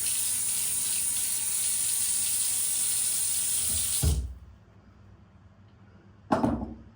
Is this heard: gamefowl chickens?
no